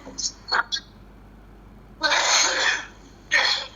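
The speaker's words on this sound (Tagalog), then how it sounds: "Parang ubo ng ano yan" A few short harsh bursts, two quick ones then two longer forceful coughs, close to the listener with quiet gaps between.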